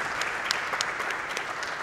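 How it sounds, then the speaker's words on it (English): Steady applause from a live audience at a speedrunning charity marathon event, a dense, continuous patter of clapping held at an even level throughout. "Clap for that one."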